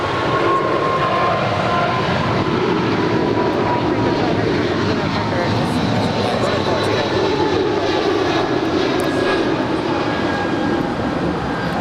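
A 24-year-old United Airlines Boeing 777-200ER departing LAX for Newark, a loud continuous jet engine roar with a dense broadband rush that holds steady throughout.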